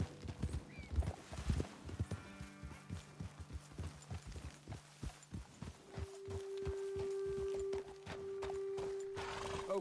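Horse hooves clip-clopping in the open-world game Red Dead Redemption 2, a steady irregular trot of several close hoofbeats with a sustained musical tone entering midway and no talking.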